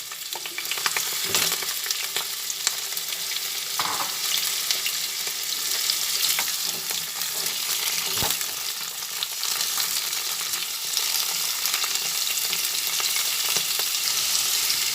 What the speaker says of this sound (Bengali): এর মধ্যে দিয়ে দিলাম অল্প করে কুমড়োগুলোকে ভেজে নেব